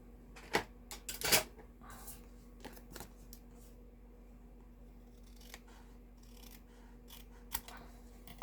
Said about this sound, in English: now we're going to snip it off